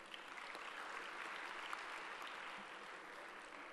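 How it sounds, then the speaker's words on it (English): An audience at a technical conference session applauding, a faint, steady wash of clapping heard from a distance throughout. "Please give a big round of applause"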